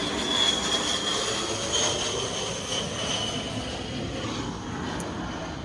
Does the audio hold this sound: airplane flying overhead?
yes